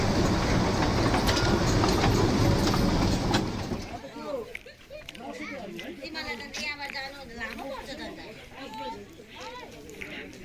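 A Darjeeling toy train on its hill track, loud and steady running noise with rumble and rattle for about four seconds, then fading back under chatter and voices of people nearby.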